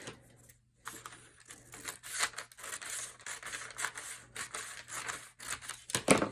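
Paper wrapping on a blind-date book is trimmed away in a run of crisp, close snipping and rustling strokes after a brief quiet start.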